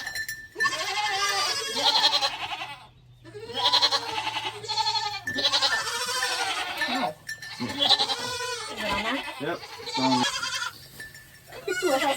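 Goats bleat loudly and repeatedly while a male goat is banded, their long wavering cries coming in close succession with brief gaps, and a few quiet words are spoken between them.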